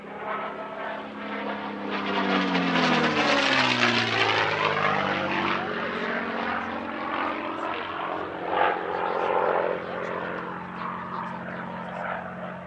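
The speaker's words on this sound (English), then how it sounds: "The Flying Undertaker paint scheme is a tribute to an F-6D, a photo reconnaissance version of the Mustang flown by Major William A. Shomo." A P-51 Mustang warbird in an F-6D photo reconnaissance paint scheme flies past at an air show, its loud propeller and piston engine drone swelling as it nears and then holding steady overhead with a clear Doppler pitch sweep.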